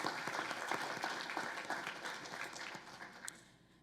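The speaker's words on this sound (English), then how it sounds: "let's give her a round of applause" A short burst of audience applause at a university engineering awards ceremony, fairly faint and distant, with dense even clapping that gradually thins out over a few seconds.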